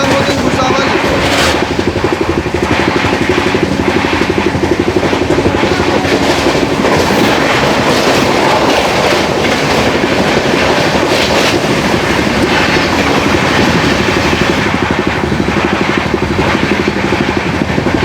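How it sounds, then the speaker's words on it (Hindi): Loud, continuous rumble and rattling clatter of the Kashi Mahakal Express on Indian rails as it passes the Gondwana Express, heard close from on board with a steady roar. "हमारी क्रॉसिंग होने वाली है गोंडवाना एक्सप्रेस के साथ हज़रत निज़ामुद्दीन भुसावल।"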